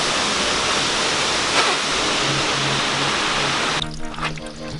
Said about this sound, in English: we found the first waterfall at Watkins Glen. Isn't she a beaut? Furiously roaring.